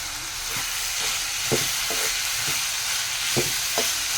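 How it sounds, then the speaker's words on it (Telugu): Broad beans and tomatoes frying in a pan give a constant hiss, punctuated by several soft knocks and scrapes of a spoon stirring, with no voices. "చిక్కుడుకాయలు టమాటాలు బాగా వేగినాయి"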